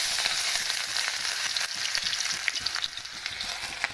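Cumin, onion and green chilies fry in hot oil with a loud, close, bubbling sizzle and scattered crackles and pops throughout.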